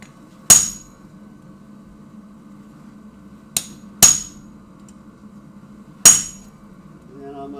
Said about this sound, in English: Hammer it in a little better.